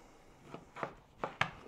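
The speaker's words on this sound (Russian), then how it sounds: "Нарезаю карбонат." A knife cuts pork carbonade into cubes for an Italian salad, giving four separate, fairly quiet chopping strokes at uneven intervals with no talk.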